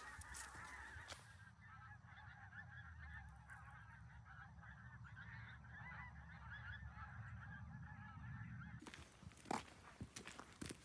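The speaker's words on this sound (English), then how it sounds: "all those birds are coming over again" A flock of geese honks steadily as the birds fly over a castle at Caerlaverock in Scotland, the calls continuous and fairly near, with a few scuffing footsteps and clatter near the end.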